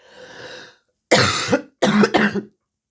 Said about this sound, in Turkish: bir öksürük krizi geldi.